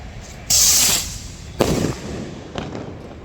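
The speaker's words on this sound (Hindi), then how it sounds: "जो बम फटा वो उसी का था।" Diwali firecracker bomb exploding outdoors: a loud sharp burst with hissing spray, followed by a second bang and a fainter pop, no talk in between.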